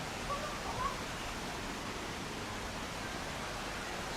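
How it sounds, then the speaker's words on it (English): Steady broadband rushing of a waterfall inside a botanical garden greenhouse in South China, a constant, even wash of falling water with no voices over it. "Did you hear the waterfall?"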